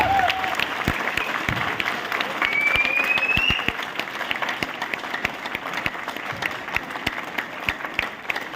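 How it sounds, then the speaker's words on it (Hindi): A large seminar audience applauds loudly and continuously, with dense clapping that holds steady throughout and eases only slightly partway through. "आप सब लोग अपने लिए दिल से जोरदार तरीके से क्लैपिंग कीजिए"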